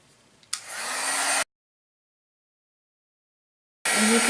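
A heat tool blows a steady, broadband rush of hot air to set embossing powder on a Valentine's card, running loudly for about a second, cutting out, then starting again near the end.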